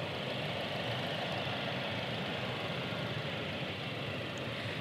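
A 2021 Jeep Wrangler Unlimited Rubicon's turbocharged 2.0-liter four-cylinder idles with a steady, close, even rumble and hum that holds unchanged throughout, with no talking.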